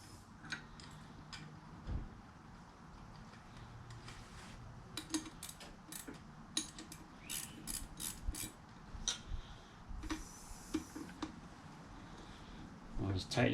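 A new nut being run down and tightened on the rear shock of a Honda Civic, giving a series of quick ratcheting clicks in short bursts with brief pauses, close by, amid a faint background hum.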